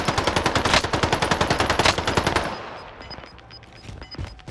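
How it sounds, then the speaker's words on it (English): Rapid automatic gunfire in a shooter video game rattles out in a fast, loud burst, then drops away to a few scattered distant shots. "Getting shot from behind."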